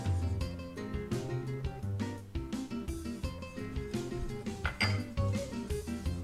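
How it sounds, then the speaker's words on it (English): Whisk clinking rapidly against a metal pot while spices are stirred into enchilada sauce, a fast, continuous metallic rattle up close. "I'm going to add the rest of the ingredients and keep whisking as I go."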